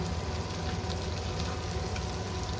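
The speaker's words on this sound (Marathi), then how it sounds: "तर आपण आता रवा फ्राय करायला घेतोय बांगडे" Rava-coated bangda mackerel frying in hot oil, a dense, steady sizzle that holds loud and close without pause.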